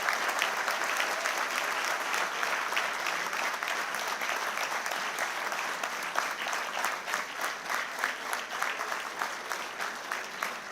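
Sustained applause from a large audience at a university graduation ceremony at Amrita Vishwa Vidyapeetham's Chennai campus, a dense, even wash of clapping lasting over ten seconds, slightly distant and without speech.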